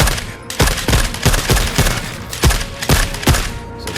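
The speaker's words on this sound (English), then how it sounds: "We're kind of shooting him in the back of the head." Rapid bursts of gunfire aimed at a Hunter Killer's head in the video game The Forever Winter, loud sharp reports repeating in an uneven rhythm across the whole stretch, with no talk.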